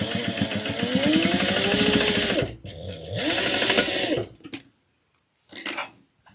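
A sewing machine re-stitches popped seams on a fabric bowl cozy, running in fast steady bursts, pausing, then short final runs before stopping; close and loud with no talking.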